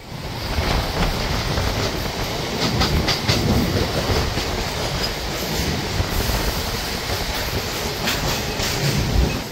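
A Howrah to Digha local train rolls along loudly, its steady rumble laced with rhythmic clickety-clack from the wheels and occasional squeals, heard from inside the carriage.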